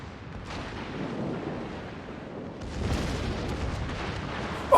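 Warship broadside gunfire in the naval battle game World of Warships, a continuous rumbling barrage of distant booms and blasts that swells louder toward the end.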